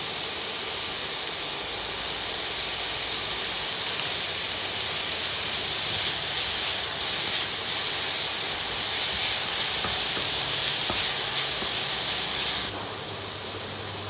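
Onions frying in a pan, a steady, close hiss of sizzling oil that swells slightly in the middle and eases toward the end, with no talking over it.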